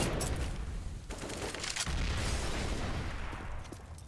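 Grenade explosions and gunfire in Counter-Strike on the Mirage map during a professional match, with sharp booming bursts over a dense, continuous clatter of in-game combat.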